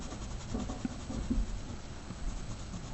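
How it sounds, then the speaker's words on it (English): Colored pencil strokes shade back and forth across paper, a soft, close, papery scratching in quiet repeated passes with no voices. "I'm trying to hide the evidence of my pencil strokes"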